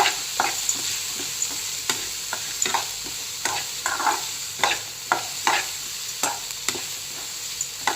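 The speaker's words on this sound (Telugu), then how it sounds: "ఇప్పుడు ఇందులో మనము మనం ఫస్ట్ కట్ చేసి పెట్టుకున్న కాకరకాయ ముక్కలు వేసేసుకుంటాము" Bitter gourd pieces stir-fry with turmeric in hot oil, a close, steady sizzle broken by repeated rhythmic scrapes and clatters of a spatula against the pan, with no voices.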